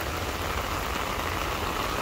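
Heavy rain falls in Hong Kong as a dense, steady hiss that stays constant and even throughout, with no voices.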